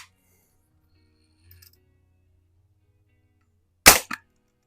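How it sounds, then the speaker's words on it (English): A Daisy No.107 Buck Jones air rifle fires a single sharp BB shot at a target, followed moments later by a smaller snap, after near silence with faint handling sounds. "I'm going to shoot at that same splatter burst I just shot it there."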